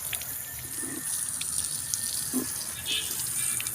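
Water is poured to water potted flowering plants in a garden, a quiet continuous splash and trickle with a few brief louder splashes.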